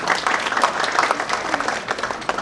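An audience at a corporate client gathering claps for a speaker, dense sustained applause from many hands filling the room at close range, steady throughout with no talk over it.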